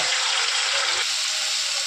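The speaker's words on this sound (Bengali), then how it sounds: "এবার আমি তেলে ভেজে নেব।" Prawns coated in salt and turmeric fry in oil with a continuous close sizzle and bubbling hiss, loud and unbroken for the short stretch, with no voices.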